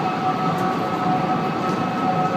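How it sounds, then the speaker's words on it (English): Eerie wailing of wind around One World Trade Center in New York, a steady loud drone with sustained whistling tones, continuous and unbroken with no voices. "a strange chorus of wailing sounds coming from the new One World Trade Center building"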